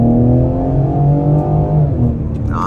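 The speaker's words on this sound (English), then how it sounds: "looks like a better spot to try out one more off the line acceleration right here" A 2022 Ford Explorer ST accelerates hard off the line, its engine note climbing in a loud, close, rising drone with layered harmonics, easing slightly near the end.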